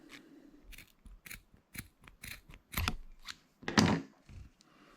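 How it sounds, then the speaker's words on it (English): Scissors snip the two tag ends of a knot on heavy jigging assist hooks, a series of close, crisp cuts in an irregular rhythm, with one louder snip near the end. "Cut the two tag ends off."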